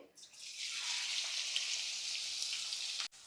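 Sliced green chillies and onions hit hot oil in a kadai, a steady bright sizzle rising quickly and holding for about three seconds before cutting off abruptly, with no talk.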